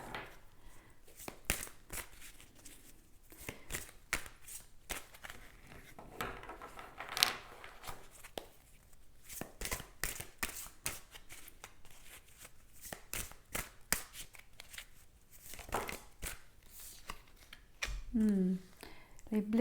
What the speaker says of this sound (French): Je vais tirer une autre carte.